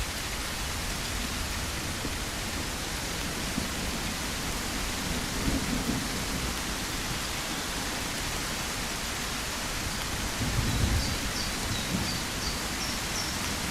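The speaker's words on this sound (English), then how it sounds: "And here comes incredibly loud rain." Heavy downpour with rolling thunder in the zombie survival video game Swanfield Survival, a steady loud rain wash with two low rumbles of thunder swelling through it.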